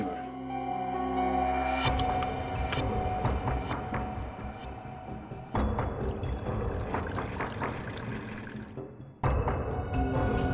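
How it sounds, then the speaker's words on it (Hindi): Water pours into a drinking bottle in a steady, gurgling stream, cutting off and restarting a few times, close to the microphone with no talk over it. "तो जरा इसमें पानी भर।"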